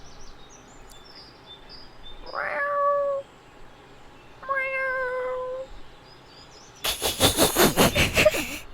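Two drawn-out cat meows sound a couple of seconds apart in a quiet room, followed by a burst of louder, rougher noise at the end.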